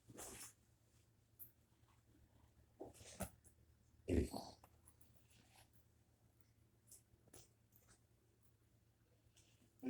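In a quiet room, a dog makes faint, scattered sounds as it looks for attention, with short soft bursts and rustles between long stretches of near silence.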